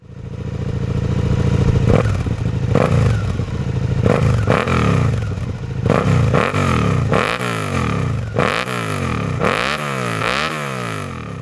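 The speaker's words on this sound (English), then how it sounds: "The SV650's 90-degree V-twin produces a beautiful exhaust note, unleashed by my SC Project exhaust." Suzuki SV650X 90-degree V-twin with an SC Project exhaust, revving up repeatedly in loud close blips that rise and fall, with a throaty, rumbling note between pulls.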